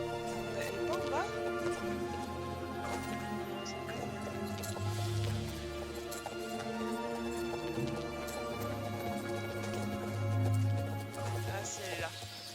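Horse hooves clip-clop in Star Stable Online in a soft, steady gait beneath layered, sustained game music, with no one speaking.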